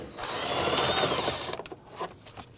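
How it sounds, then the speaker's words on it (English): A power tool removes 10mm bolts from the air filter box of a 2011-2015 Kia Sorento, whirring loudly for about a second and a half before stopping, followed by a few light metallic clicks and rattles. "we're going to go ahead and remove the 3 10mm bolts securing the air filter box"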